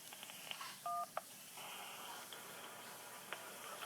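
A single short touch-tone telephone keypad beep sounds early on a quiet phone line with faint clicks and hiss. It is brief, clear and isolated, with no voice over it.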